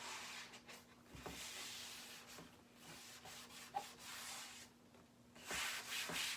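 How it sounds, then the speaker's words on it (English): Light hand sanding along the edges of a wooden board, a soft steady rubbing and scratching with brief pauses between passes, close and fairly quiet, with no talking. "sand it down just a little bit on the edges"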